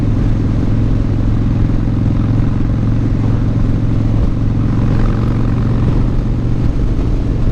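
A motorcycle engine held under steady throttle while climbing a hill, a loud continuous drone that stays close and constant throughout, with no voices.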